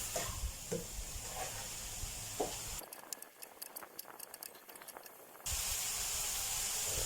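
Chicken breast sizzling and hissing as it stir-fries in a hot pan, broken by a quieter gap with light clicks before the loud sizzle returns.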